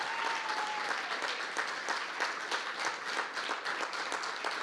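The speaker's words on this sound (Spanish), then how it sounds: "Vamos a dar un aplauso al Señor" A church congregation claims its praise with sustained, dense applause that fills the room evenly and steadily, continuing without letup from start to finish.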